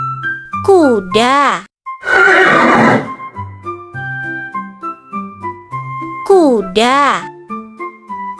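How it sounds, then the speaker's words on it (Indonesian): A horse whinnies loudly twice, each a shrill, wavering neigh, with a breathy snort and softer tonal sounds in between. "Kuda bisa tidur sambil berdiri, berlari cepat sejak masih kecil, dan punya ingatan yang sangat kuat."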